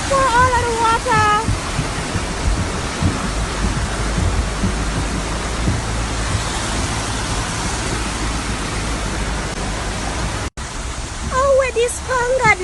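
Floodwater surges along a road in Ocho Rios, Jamaica, in a loud, continuous roaring wash, with someone talking over it at the beginning and near the end.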